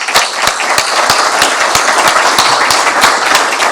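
A conference audience at a rail safety event gives the outgoing president a round of applause, loud and close, with sharp individual claps standing out from a thick, continuous patter of many hands.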